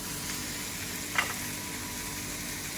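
Tomatoes drop into a hot frittata pan with eggs and salmon waiting, giving a steady close sizzle with one brief sharper scrape partway through, no voices present.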